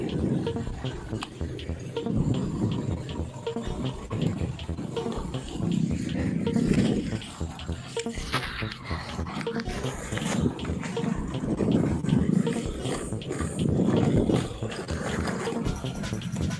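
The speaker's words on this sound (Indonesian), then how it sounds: "ini suara hujan abunya sangat terdengar keras dan gelap ini teman-teman." Volcanic ash rain from the 2021 Mount Semeru eruption falls hard and steadily, a dense, continuous hissing patter with a low rumbling undertone that fills the whole stretch without letting up.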